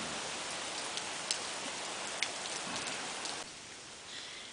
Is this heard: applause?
no